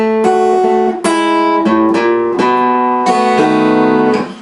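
A 12-bar shuffle blues turnaround lick in sixths plays slowly on guitar, a steady chain of distinct plucked double-stops ringing close and clear with no talk.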